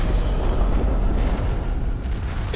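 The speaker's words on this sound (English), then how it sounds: "Right between two very powerful big explosions" Freespace 2 space-combat game explosion: a heavy, low rumbling boom that rolls on loudly for the whole span with no one speaking.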